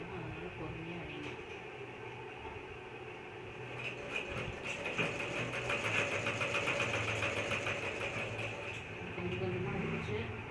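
A domestic sewing machine hums and clatters as it stitches at an unhurried pace during a home tailoring lesson, a continuous mid-pitched whirr that swells in the middle, with a voice faintly present in the background.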